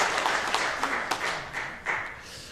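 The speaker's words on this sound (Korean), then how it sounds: "우리 잘 다녀오라고 박수로 한번 격려하겠습니다." A church congregation applauds during a Sunday worship service, a steady wash of many hands clapping together at moderate volume, with no talking over it.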